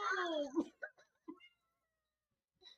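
A cat lets out one loud drawn-out meow, followed by a few short faint chirps and mews, with a brief quiet voice nearby.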